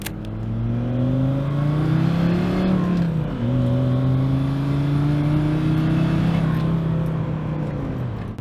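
Audi RS3 diesel drift car with a newly fitted exhaust, revving loud and close: the engine note climbs, drops briefly, then climbs and holds again in a sustained, raspy drone.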